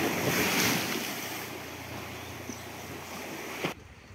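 Surf rolling onto the shore on a morning at Parai village, Biak, Papua, a steady broadband wash with wind noise on the microphone, continuous and fairly close before cutting off near the end.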